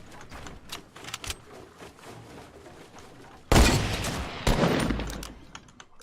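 Rapid hip-fire gunshots in the Fortnite video game, sparse faint pops at first, then two loud dense bursts of automatic fire in the second half, no talk.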